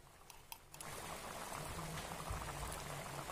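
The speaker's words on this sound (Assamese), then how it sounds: "আৰু এতিয়া উতলিবলৈ দিম ঢাকন লগাই" Chicken curry bubbles in a covered pot, a soft continuous boiling burble with small pops close by, after a brief clatter at the start.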